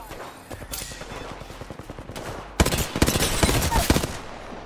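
Rapid automatic gunfire from the video game Apex Legends rattles in dense bursts, growing louder and heavier partway through, close and continuous with some game effects underneath.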